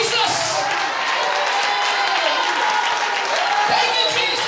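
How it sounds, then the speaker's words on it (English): A church congregation claps hands in worship, a steady wash of applause carrying on under a speaking voice throughout. "Clap your hands to the Lord one more time."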